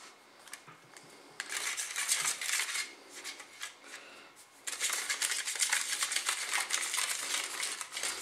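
A spoon scrapes and clinks against a small plastic tray while stirring soda-flavoured Nerunerunerune candy powder, with busy rapid stirring in two long bursts separated by a quieter pause, close and crisp.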